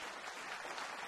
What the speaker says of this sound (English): Let's have a round of applause for Professor Petteri Taalas